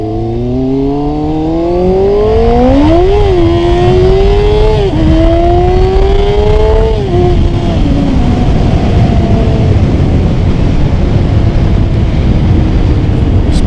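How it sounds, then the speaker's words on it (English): A 2000 Kawasaki ZX6 sport bike revs hard through first and then second gear, its rising engine whine climbing, dipping at the shift and climbing again, loud and close with heavy wind roar throughout. "maybe rev out first, second gear"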